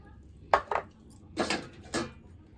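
A spoon clatters against a bowl while puffed rice is tossed with chili powder, chaat masala, coriander and cumin powder, salt and lemon juice: four sharp close clinks and scrapes in two pairs, with quiet gaps between.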